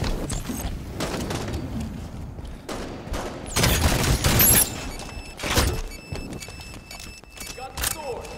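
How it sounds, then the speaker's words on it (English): Gunfire rattles through a Halo 5 multiplayer match, with rapid bursts of shots and louder blasts spread across the scene while a voice talks over the action. "Taking fire"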